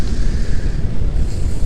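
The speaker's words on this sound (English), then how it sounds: "these waves here can seem more threatening than they actually are" Ocean surf rolls onto Iceland's South Coast, a loud, continuous roar of breaking water mixed with heavy wind buffeting the microphone, no voices.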